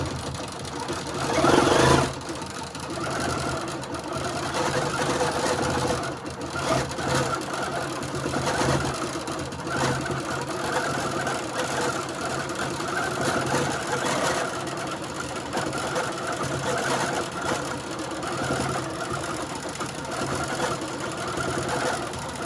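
A quilting sewing machine stitching circles across a log cabin quilt runs with a steady, continuous motor whir and rapid needle chatter throughout, close and even, with a brief louder burst near the start.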